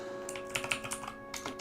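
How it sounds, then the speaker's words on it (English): Close keys clack on a computer keyboard in a quick, uneven flurry of taps, with a brief pause and then a few more strokes over a steady electronic hum. "I'm just typing it out, Swigglegard."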